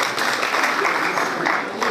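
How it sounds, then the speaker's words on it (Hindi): A crowd applauding steadily at a student-teacher school cultural program, a close, even wash of clapping lasting a couple of seconds. "एक बार जोरदार तालियां"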